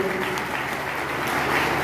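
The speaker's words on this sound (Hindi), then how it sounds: "मिस्टर रामचंद्र जी, एक बार जोरदार ताली मचाऊंगा इनके लिए" An audience at a motivational business gathering gives a team leader a round of applause, a continuous, fairly loud patter of clapping that holds steady throughout.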